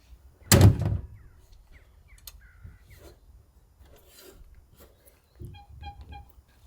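A Land Rover Series 3 door swings shut onto a Defender lock receiver, giving one loud, close thud with a short rattle, followed by quieter rubbing and a second softer knock near the end.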